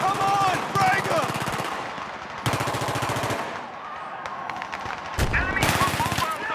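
An enemy machine gun rattles in long, rapid bursts during a Battlefield 3 canal firefight, loud and close, with brief pauses between volleys and sharp single shots near the end; shouted voices mix in.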